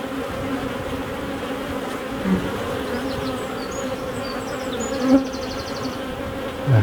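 Honeybees from a beekeeper's hive buzz in a steady, dense drone throughout, with a few individual bees passing close by and briefly louder; nobody speaks.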